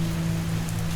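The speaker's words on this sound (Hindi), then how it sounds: "बारिश की वजह से छत पर कुछ दूर से आवाज़ आ रही थी" Rain falls steadily on a roof at night, a dense continuous patter over a low, constant hum.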